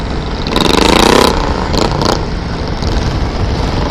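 A loud motorcycle revs and accelerates close by on a road at a green light, its engine note rising and falling, with brief sharp bursts a little later.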